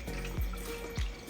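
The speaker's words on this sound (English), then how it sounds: "Now I'm going to add some water" Water pours into a blender holding tomatoes while a stew is being prepared, a short close splash and trickle that runs steadily for about a second with two brief heavier surges.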